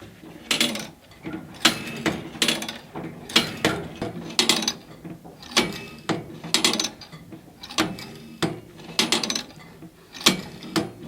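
A Wood-Mizer BMT150 saw blade tooth setter cycles repeatedly, producing a regular series of about a dozen sharp mechanical clanks and ratcheting clicks, close and fairly loud, with no talk.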